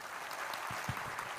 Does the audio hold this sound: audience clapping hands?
yes